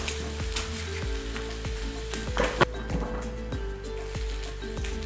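Onion sizzles in a pan alongside other ingredients, a quiet steady frying hiss broken by a few light taps and a brief louder stir in the middle, with no voices.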